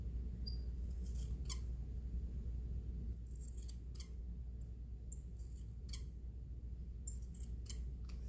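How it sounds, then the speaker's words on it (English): Old squeaky scissors cutting baker's twine for a tassel pom-pom, giving repeated sharp squeaks and snips at irregular intervals over a low steady background hum. "Squeaky scissors."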